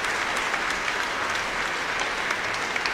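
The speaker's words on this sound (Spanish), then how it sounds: "Un aplauso para él." Steady, dense applause from a crowd at a church patronal feast Mass fills the whole stretch, an even wash of many hands clapping without a break.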